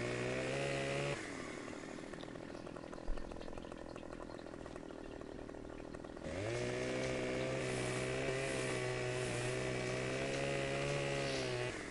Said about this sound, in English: we've been cutting all the trees down with chainsaw